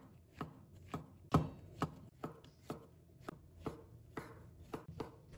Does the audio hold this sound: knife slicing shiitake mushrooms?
yes